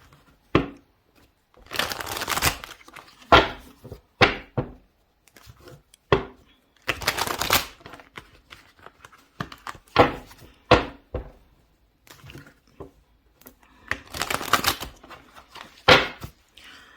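Tarot cards shuffled by hand in repeated bursts of riffling and sliding, close and fairly loud, with short pauses between and no talk.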